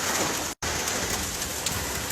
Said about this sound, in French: ça, c'est de la pluie.